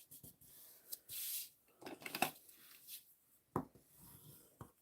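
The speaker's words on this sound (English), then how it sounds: "I'm going to fold and burnish my card base" A paper card base being folded and burnished in a quiet craft setting, with soft scraping, rubbing strokes and a few sharp creasing taps, close and faint, with no voices.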